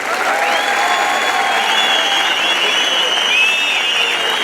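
Sustained applause from a crowd, a dense wash of clapping at steady volume throughout, with a few whistles on top.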